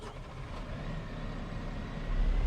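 Biggest tractor in Farming Simulator 25 running, a low steady engine rumble with a swell in loudness near the end, no talk over it.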